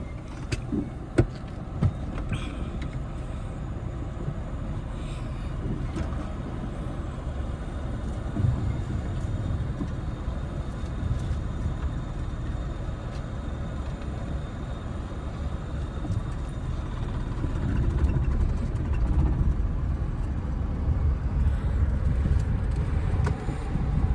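A car pulls away and drives on, its engine and road noise forming a continuous low rumble, with a few clicks and thumps near the start and the drone swelling somewhat louder toward the end.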